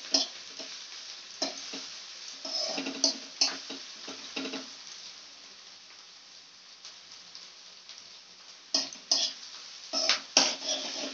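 Giant prawns frying in a pan, a soft crackling sizzle punctuated by irregular bursts of spattering and stirring scrapes, fading quieter in the middle before picking up again, close and without talk.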